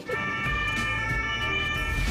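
Ambulance siren wailing in traffic on Indonesian roads, a steady high tone riding over engine and road rumble, close and fairly loud throughout the short moment.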